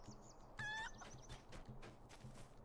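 A rooster clucks in Lord of the Rings Online, a short burst of bright game fowl calls near the middle, set against a steady ambient background.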